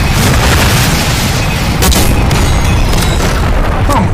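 A loud, heavy Hellstone strike explosion in Black Ops 6 booms and rumbles continuously, with crackling bursts and debris noise scattered over the top and little else heard.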